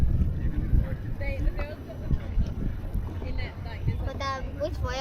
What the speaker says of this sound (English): Sails catching the wind.